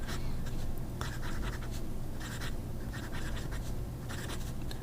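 A P141 fountain pen with a standard number 8 nib scratches across paper in a steady, close, soft rasp, with short strokes and brief pauses over constant low background noise.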